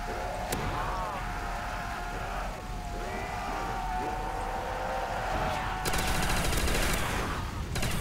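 Flamethrower firing in the UGX Requiem custom zombies map: a dense, continuous roar of weapon fire and combat noise that fills the whole stretch and swells louder near the end, with talk mixed in.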